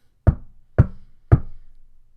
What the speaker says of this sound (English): Goldilocks was knocking on the door